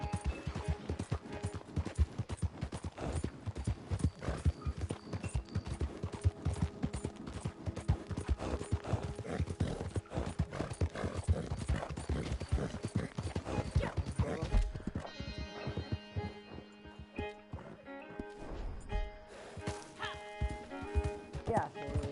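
A horse gallops in Red Dead Redemption 2 Online, its hooves pounding in a rapid, steady rhythm throughout, with a few faint neighs and someone talking loudly over it.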